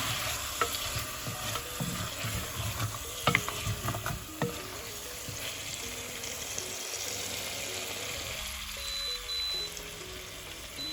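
Spices and dissolved chicken stock cube are stirred in a pan for chicken soup, with a spoon scraping and clinking steadily under a faint background sizzle, close and with no talking.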